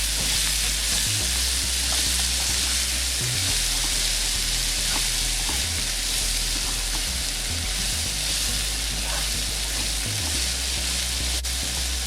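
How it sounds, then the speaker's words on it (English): Fish and potatoes sautéing in a pan, a loud, dense, unbroken sizzle with faint stirring knocks underneath, heard up close, with no voices. "Now I'm going to stir all of that up in there."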